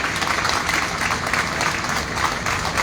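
A crowd at a temple anniversary celebration claps loudly and steadily, a thick wash of applause that holds at an even level throughout.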